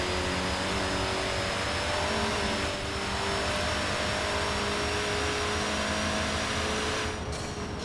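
Car engine in the racing game Forza Horizon 4, a single-turbo car droning steadily with layered engine harmonics and a high whine, loud and continuous throughout with no talking.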